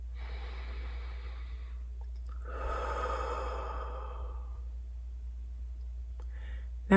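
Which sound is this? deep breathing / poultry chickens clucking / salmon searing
deep breathing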